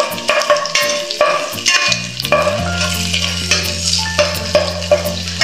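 Pork and bitter gourd sautéed in a pan for ginisang ampalaya, with steady close sizzling and frequent clinks and scrapes of a spatula stirring, a low hum running underneath.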